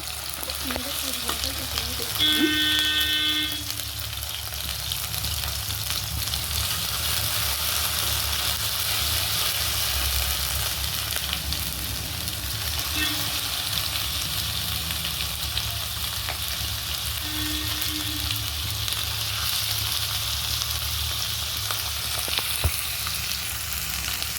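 Mutton pieces frying in a pan with small shallots and ginger-garlic paste, a steady close sizzle running throughout with occasional stirring scrapes and no talking.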